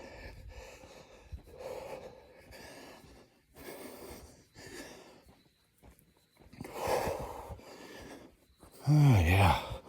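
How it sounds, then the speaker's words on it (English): Heavy breathing after walking up a hill on a morning walk: a series of gasps, sighs and snorting breaths in an uneven rhythm, close to the microphone and building to a louder, heavier breath at the end. "that hill made me breathe a little heavy"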